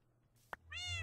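A cat meows once in the Minecraft video game, a short, clear, rising meow at close range that follows a soft click, with no talk over it.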